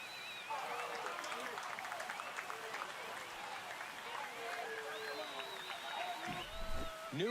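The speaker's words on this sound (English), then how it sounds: "This crowd is on fire right now. They're going nuts thanks to that home run." A KBO baseball crowd between the KIA Tigers and Lotte Giants roars and cheers after a home run, a dense, sustained wall of applause, shouts and whistles with a commentator talking over it.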